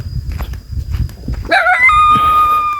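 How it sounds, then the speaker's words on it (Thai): A dog barks once at a rural Thai cattle pen, a sharp nearby yelp that sets off a ringing, tonal cry. It follows rustling and shuffling footsteps, with no talking. "เห่าก็เป็นเนาะ"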